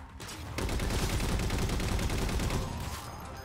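Dense, sustained automatic gunfire in the shooter game Halo 4, a loud continuous fusillade of rapid shots lasting about three seconds with no talk over it.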